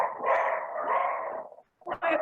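Puppies barking and yipping indoors at home, a couple of loud close bursts with a short pause between them.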